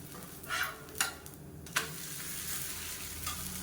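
Steady, quiet sizzling from a hot pan, with a few soft scraping knocks as a millet pancake is turned over.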